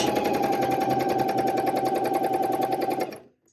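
Domestic sewing machine stitching fold-over elastic as a knit binding, a steady rapid motor whir and needle chatter running continuously for about three seconds before stopping abruptly, close and fairly loud with no talk.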